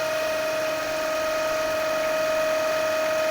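A DC shunt motor runs steadily during a brake test, giving a constant close electric whine with a sharp tonal hum that holds unchanged throughout.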